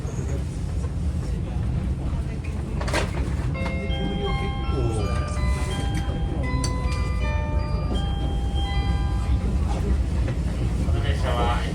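SL Yamaguchi steam train running with retro old-style passenger coaches after leaving Yuda Onsen toward Shin-Yamaguchi: steady loud rumble of the rolling coaches with tonal squeals and chime-like notes, while people talk throughout.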